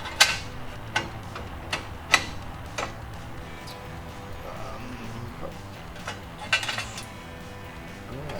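Sharp metallic clicks from a ratcheting wrench working on a car steering arm during a disc brake conversion on an El Camino project car, arriving in an uneven series of separate ticks with quiet gaps between them, close and moderately loud.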